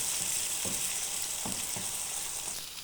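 Onion paste frying in oil, a steady close sizzle with a few soft spoon scrapes and stirring taps and no voices.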